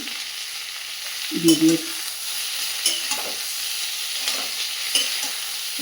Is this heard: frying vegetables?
yes